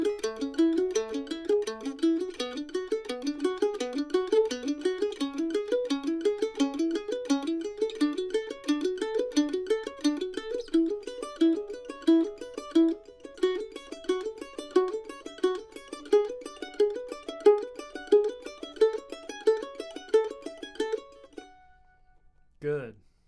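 Mandolin arpeggio patterns for position shapes played up to speed, a continuous rapid stream of bright plucked notes repeated for about twenty seconds before ending on a final strum, close and clear.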